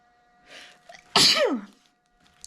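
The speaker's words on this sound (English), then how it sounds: "I might sneeze, hang on" One loud, close sneeze, a brief intake of breath and then a sharp burst that trails off, with no talking.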